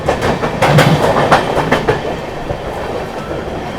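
The 12313 Sealdah New Delhi Rajdhani Express runs on rails, loud and close, with rhythmic clickety-clack of wheels over rail joints above a steady rumbling roar.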